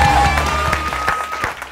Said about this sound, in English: Give Hadi a round of applause.